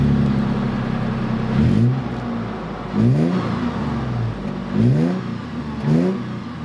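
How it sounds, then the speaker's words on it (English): 2020 Toyota 4Runner TRD Pro exhaust revving, four sharp rising engine blips over a steady idle rumble, close and loud with no talking. "Look at that exhaust tip. It actually sounds pretty cool, to be honest."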